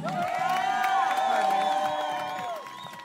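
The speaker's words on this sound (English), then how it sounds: "Let's give both teams a big round of applause." A crowd at an outdoor volleyball event at White Thorn Lodge cheers, whoops and claps for both teams, with loud sustained shouts and high-pitched whistling cries over scattered applause that tapers off near the end.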